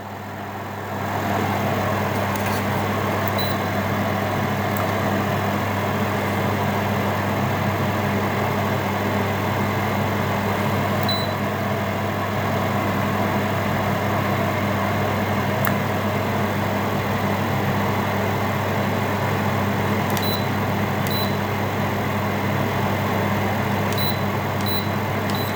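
A Parkside PKH2000B1 fan heater set to maximum gives a steady, unbroken whooshing drone of airflow and motor hum, loud and close, with a couple of faint clicks over it and no talk.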